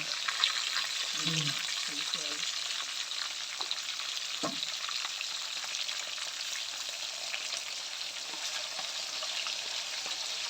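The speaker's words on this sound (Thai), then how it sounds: "สักครู่ทอดหมูนะคะ" Pork frying in hot oil gives a steady, continuous sizzle that fills the background, with a voice speaking briefly early on.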